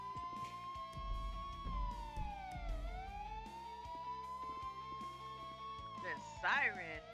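A police car siren wails continuously in a roleplay video game, rising and falling slowly, steady and fairly close, with a voice talking over it.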